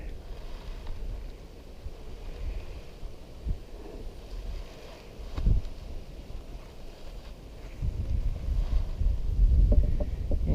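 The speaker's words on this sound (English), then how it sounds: "we've got a little more wind again today" Wind gusting across an outdoor beehive, a low rushing rumble buffeting the microphone, building into heavier, louder gusts near the end.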